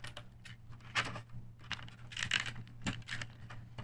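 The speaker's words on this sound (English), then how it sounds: "I'm just using a tape runner" A tape runner laying adhesive on the back of an index card: a series of soft, irregular clicks and scratchy ticks over a low steady hum, close and quiet.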